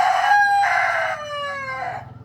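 A mother hen with newly hatched chicks gives loud, drawn-out calls with falling pitch, about three connected vocal bursts close to the listener, ending in a few short clucks.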